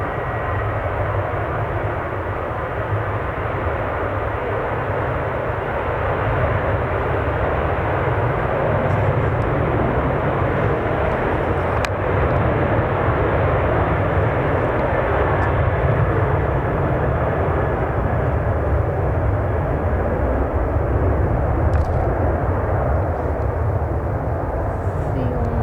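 Loud, continuous roar of a 19-year-old Boeing 737-800 jet spooling up for takeoff at Manchester Airport, steady broadband engine noise filling the whole stretch from fairly close range.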